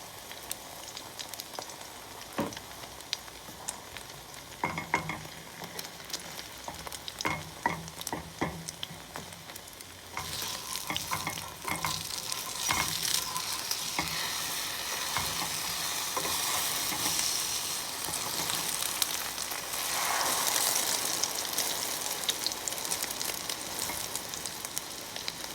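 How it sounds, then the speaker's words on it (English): Eggs frying with tomatoes and onion for an omelette, a continuous close sizzle with scattered crackles that swells louder and denser in the second half, with no talking. "Now we're gonna put the eggs in now. And I'm gonna sprinkle these tomatoes and onion in."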